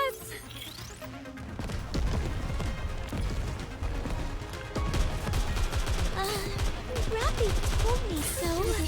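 Rapid gunfire bursts and explosive crashes from the video game NIKKE keep up a dense, loud barrage, with a voice talking over the shooting.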